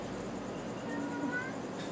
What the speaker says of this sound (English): You could hear him meowing off camera.